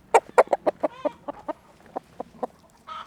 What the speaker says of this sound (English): That's the rooster, man.